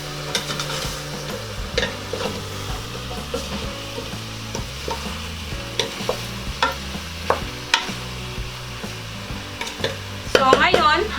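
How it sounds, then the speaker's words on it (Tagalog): Beef pares being stirred in a pot, with a steady sizzle beneath repeated scraping strokes of a utensil against the pot, plus occasional clinks near the end. "Haluin muna natin."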